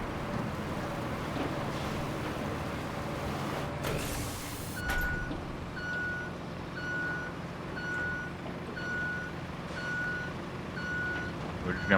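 In RoadCraft, a work truck backs up with a steady series of evenly spaced, high reversing beeps, about eight in a row, over a constant engine rumble.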